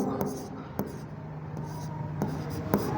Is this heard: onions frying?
no